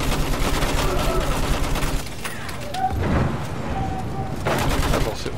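Sustained machine gun fire from a World War I weapon in the Battlefield 1 single-player campaign, a dense rattling stream of shots that breaks off around two seconds, then further bursts and battle noise with a voice speaking over it.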